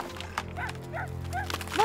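A dog runs past and startles a horse in a LEGO Friends animated short, with barking and horse sounds over a steady sustained musical tone and short animated calls rising throughout.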